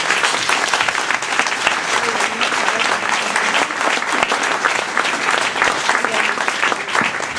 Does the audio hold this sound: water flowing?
no